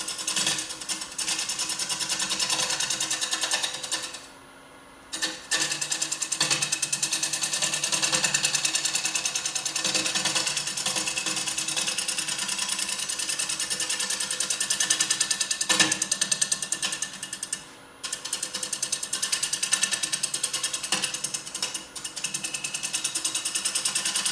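A wood lathe turns a blank of purpleheart hardwood, giving a steady, loud, continuous machine whir with a scraping tool chatter, briefly dropping out twice as cutting pauses, with no talk.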